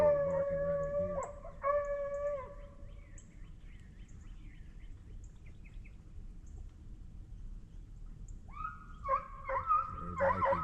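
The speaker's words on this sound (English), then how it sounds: "barking right in here" Hunting hounds on a bobcat chase bay and howl in drawn-out, moderately distant calls, first in a cluster, then a quiet stretch, then another burst of baying.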